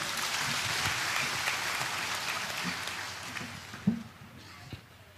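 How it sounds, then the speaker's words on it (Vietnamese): Applause from a congregation fills a large church during a Catholic episcopal ordination Mass in Ban Mê Thuột diocese, Vietnam. The steady, fairly distant clapping runs throughout and thins toward the end, with a few louder individual claps. "Xin đồng đoàn vỗ tay."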